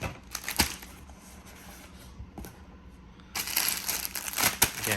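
Someone opening cardboard packaging for an Apple t-shirt, with soft crinkling and scraping that swells into louder crackling rustles near the end, close up with no talking.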